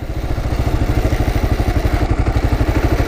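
Kawasaki KLR motorcycle engine chugging at low speed while the rider feathers the clutch, a steady loud rhythmic thumping pulse up close with no talking.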